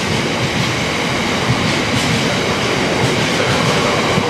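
GBRF Class 66 diesel locomotive 66727 in mint livery passes through Doncaster station, a loud, steady broadband rumble and roar with rhythmic wheel clatter that holds close and constant throughout, with no voices.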